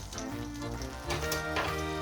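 Shallots hit melting butter in a pan for risotto milanese and sizzle in a steady, crackling hiss, with a few brighter pops rising above the continuous fry.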